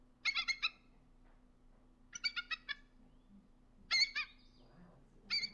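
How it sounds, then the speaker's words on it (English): A bald eagle's call plays from a recording during a birds of prey program: four bursts of high, thin chattering piping notes, each a rapid string of short squeaky chirps, separated by pauses over a faint background hum. "This is what a bald eagle sounds like."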